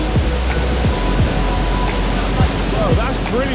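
Floodwater rushes loudly across a flooded plain at Wellingborough, a dense, continuous roar like surf, with faint whistle-like tones and voices occasionally surfacing beneath it.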